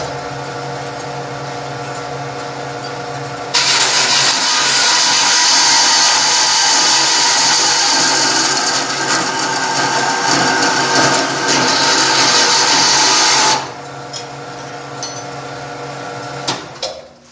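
A power tool cuts through a metal piece in a workshop, a loud sustained grinding whine lasting about ten seconds between quieter stretches of lower background noise, with no talk.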